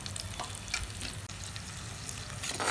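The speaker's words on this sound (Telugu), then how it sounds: "సిమ్లో పెట్టుకుని 2-3 నిమిషాల పాటు వేయించుకుందామండి ఉల్లిపాయ ముక్కలు." Quarter kilo of sliced onions with cut green chillies frying in a pan for chicken curry, a continuous crackling sizzle with occasional stirring clinks and a brief louder scrape near the end.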